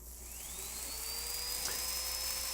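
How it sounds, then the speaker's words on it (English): Dental burr from an artistic burr kit, a red-striped diamond, drilling a typodont tooth during reduction: a steady, high-pitched whine held for the whole moment, close and alone, rising slightly in pitch with a brief shift near the end. "first I'll do the reductions throughout the tooth using a burr from the artistic burr kit"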